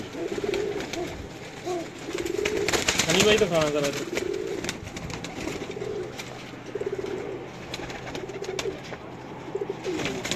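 Pigeons coo in low, rolling bursts close by, repeating through the clip, while someone talks over them and a short flutter of wings stands out.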